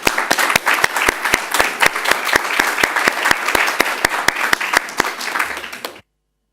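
An audience at a conference event gives a round of applause, loud and continuous clapping from a crowd with a few sharp, regular claps standing out, ending abruptly in silence.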